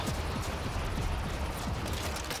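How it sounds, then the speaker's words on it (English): Dense, continuous gunfire against a dragon in Call of Duty zombies, Gorod Krovi, forms a loud wall of rapid shots blended with game noise and rumbling chaos, with no break across the stretch. "I'm shooting his neck."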